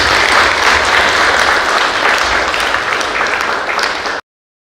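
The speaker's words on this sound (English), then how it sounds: "I think we should give a round of applause to all the speakers here," Loud, dense applause from an audience at an inter-college debate competition, sustained evenly for about four seconds before cutting off abruptly.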